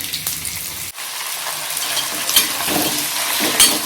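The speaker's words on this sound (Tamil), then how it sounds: "ஊற்றி எண்ணெய் காஞ்ச உடனே இந்த சிக்கன் அடுப்பில் போட்டு சேர்த்துடலாம்" Country chicken pieces fry in sesame oil in a pan for a curry, giving a loud, continuous sizzle with stirring scrapes and a brief clank early on.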